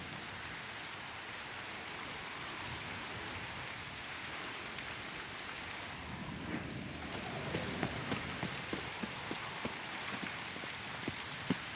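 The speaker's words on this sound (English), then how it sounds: "Looks like rain." Steady rain falls in the Witcher 3 video game, a dense continuous hiss of raindrops with scattered sharper drip taps growing more frequent toward the end, no voices.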